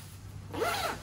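A half-zip zipper on a Supreme micro down hooded pullover of Pertex fabric is pulled once, a short close rasping zip in a quiet room.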